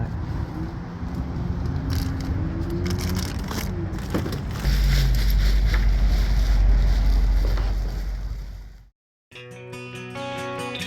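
A car driving on a road in Utah, a steady low engine and road rumble with wind buffeting that grows louder midway, then cuts out briefly before a quieter, tonal passage returns.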